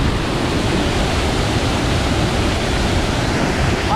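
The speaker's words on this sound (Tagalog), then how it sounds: "Narito yung malaking bukal" Water rushing from a large spring outdoors, a steady, loud, broadband roar that holds constant throughout with no voices over it.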